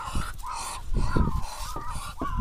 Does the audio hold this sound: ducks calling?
yes